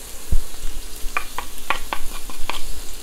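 Hand-torn cabbage and carrot stir-frying in oil in a wok, a soft sizzle under sharp intermittent clicks and scrapes of stirring, close and fairly loud.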